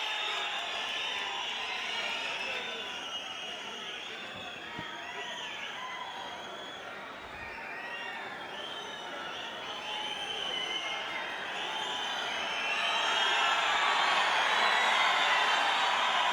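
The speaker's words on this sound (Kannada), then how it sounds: "ಚಪ್ಪಾಳೆಗಳ ಸ್ವಾಗತ." A large crowd at an outdoor Congress rally in Mandya with Chief Minister Siddaramaiah cheers and claps in a sustained, dense roar that swells louder toward the end.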